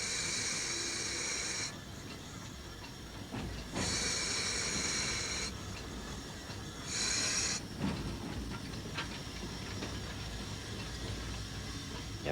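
Steam locomotive on a heritage railway, with bursts of hissing steam at intervals over a steady rumble of the running train and occasional rail clanks, heard at moderate distance.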